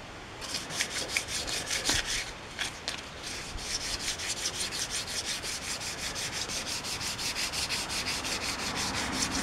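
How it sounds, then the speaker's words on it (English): Rhythmic wet sanding of an aluminum wheel by hand with 320-grit sandpaper, steady back-and-forth rasping strokes that quicken into an even, continuous scrubbing, close up with no talking. "And keep going until the sanding scratches are gone, and then we'll go to a finer grit yet."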